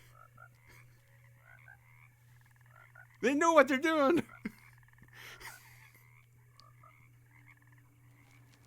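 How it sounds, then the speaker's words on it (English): Frog croaking in the 2024 video game Alone in the Dark, a single loud close croak lasting about a second amid quiet game ambience, with a person talking briefly afterward. "No, frog, no!"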